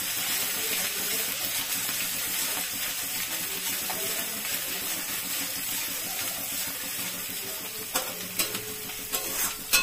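Ginger paste frying in a pan for an egg rezala, a constant bright sizzle with stirring strokes throughout, a few sharper utensil clicks near the end, close by with no voices.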